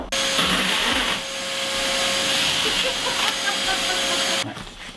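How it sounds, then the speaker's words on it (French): A power drill whines steadily while an 80 mm hole saw cuts through an insulation panel in a troglodyte farmhouse renovation, a sustained grinding hum that starts abruptly and stops near the end. "on va percer ici un trou de 80 avec une scie cloche"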